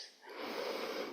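Steady audible breathing during a shoulder warm-up exercise, a soft breathy rush that swells after a brief quieter moment and holds fairly close for about a second, with no talking.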